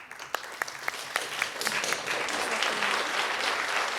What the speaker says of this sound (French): Je souhaiterais qu'on fasse une belle main d'applaudissements pour Kautar Ouarak